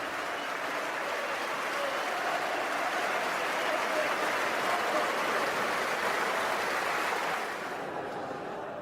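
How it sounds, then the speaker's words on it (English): Football League crowd in a stadium giving a minute's applause before a match, a broad, distant roar of many hands clapping continuously, steady and even, fading slightly near the end. "every game in the Football League this weekend has been preceded by a minute's applause"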